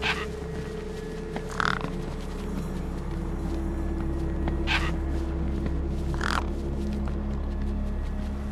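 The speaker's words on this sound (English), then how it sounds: "No way I was going to get between those birds and their feast." Crows caw in a few separate short calls over a steady loud mechanical hum and rumble in the video game Beyond a Steel Sky, the caws standing out briefly against the droning background.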